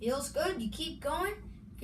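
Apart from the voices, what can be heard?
No everyday noises stand out.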